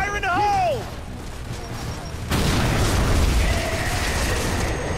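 A grenade blows up in the video game Gears of War 3. A voice calls out first, then a sudden loud broadband blast lands midway and rumbles on to the end.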